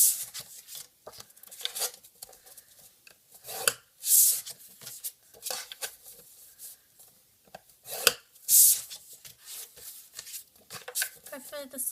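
Paper is scored on a Stampin' Up scoreboard for a card, giving sharp scraping strokes and soft rubs spaced irregularly, close and clear, while someone talks between them.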